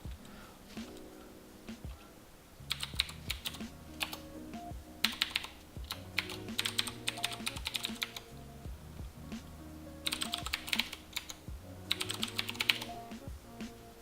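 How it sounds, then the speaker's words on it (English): Someone types an email on a computer keyboard, a quiet close-up patter of key clicks in irregular bursts with short pauses between them. "you'd go ahead and type in an email"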